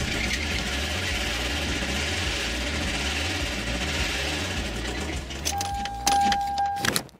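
A Toyota engine that was run without regular oil changes idles with a steady low rumble, joined near the end by brief metallic jangling and clicks.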